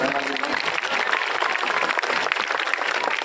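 Many people at a school gathering clap together in a sustained, even burst of applause, dense and fairly close, with no pauses.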